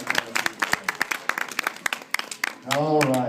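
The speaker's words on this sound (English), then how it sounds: "let's have a big round of applause for Rabbit" A small convention crowd gives scattered applause for a volunteer, with sparse individual claps in an irregular rhythm before a voice briefly cuts in near the end.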